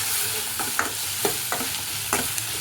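Green chillies and garlic sauté for chickpea sambar with a steady frying hiss, broken by several distinct scraping spatula strokes across the pan, close and fairly loud.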